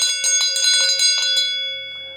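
A small metal bell is struck in a quick run of bright, ringing strokes, then falls silent and leaves a clear, sustained tone that slowly decays, heard close and alone with no talking.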